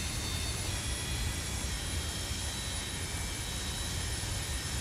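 Steady broadband roar of Boeing 727 jet engines in the FSS 727 add-on for Microsoft Flight Simulator 2024, a continuous even whoosh with a faint high whine on top, moderately loud with no talking.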